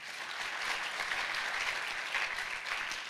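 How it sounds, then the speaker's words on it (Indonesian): A church congregation at a Pentecost service applauds to give praise, a steady, even wash of clapping at moderate distance that lasts about three seconds without pause or speech. "Tepuk tangan buat Tuhan."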